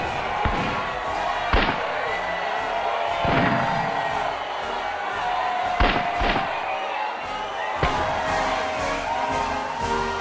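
An angry crowd roars as it storms the Bastille, a steady surging din broken by several heavy booming thuds and crashes at irregular intervals.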